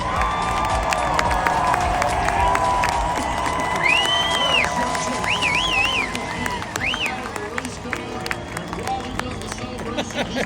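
NASCAR race fans roar and cheer at Charlotte Motor Speedway during the Coca-Cola 600, a loud sustained crowd din with whistles and shouts rising above it, continuing throughout.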